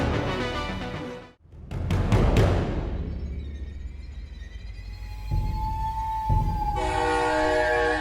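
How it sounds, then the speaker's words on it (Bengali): A metro train pulls into a station, its rumble rising after a brief hush. A long steady horn or whistle tone follows and a higher electronic tone joins near the end, loud and continuous. "ট্রেন ধীরে ধীরে স্টেশনে এলো"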